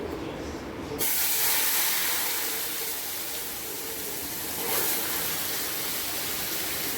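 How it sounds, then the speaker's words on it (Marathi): A sudden loud hiss bursts out as hot water hits roasted semolina in a hot pan, then continues as a steady steaming sizzle. "आता हे गरम पाणी टाकलं"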